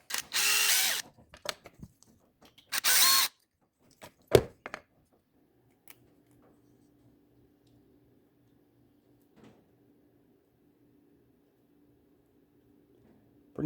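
A power drill removes small retainer screws that hold the axle springs on a Midnight Pumpkin. Three short, sharp whirring bursts come close together early on, followed by faint clicks and a low, steady hum in otherwise quiet surroundings.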